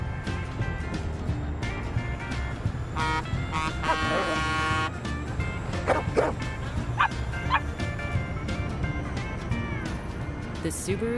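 A dog barks and yips repeatedly around a Subaru Forester, with whimpering between the barks, close and loud over a low car rumble.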